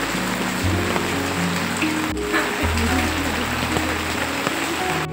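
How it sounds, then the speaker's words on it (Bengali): Heavy rain falling outdoors with flowing floodwater nearby, a dense, loud, continuous wash of noise, with low droning tones running underneath. "এই বৃষ্টি তো আর থামার নামই নিচ্ছে না।"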